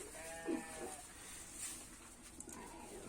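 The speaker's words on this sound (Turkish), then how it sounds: "Bizim kuzucukların yayılma vakti geldi değil mi Sultan anne?" Lambs bleating in a barn before being let out to graze, a few short faint calls over quiet rustling background, no voices.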